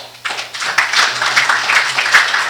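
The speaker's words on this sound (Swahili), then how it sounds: "nataka tukaweze kupigia hawa watu makofi mazuri" A church congregation at a Sunday service in Seattle applauds, a loose patter of clapping rising quickly and holding at a moderate level over a faint low hum.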